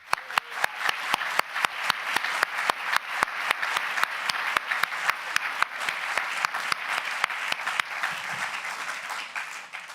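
An audience at a global development event gives sustained applause. Sharp, distinct claps keep up a steady, fairly even rhythm for the full stretch, heard from a moderate distance.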